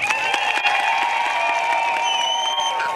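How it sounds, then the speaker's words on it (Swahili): An outdoor political-meeting crowd applauds its leaders with continuous, dense clapping, while high ululating cries ring out above it. "mpigieni kwanza makofi viongozi wetu hapa."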